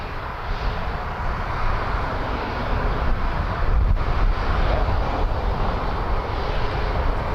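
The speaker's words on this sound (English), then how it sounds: "Learjet. Oh, Learjet. Probably a medevac." A Learjet business jet passing at Toronto Pearson gives a continuous jet roar with slight swells and some wind buffeting on the microphone, fairly near and sustained throughout.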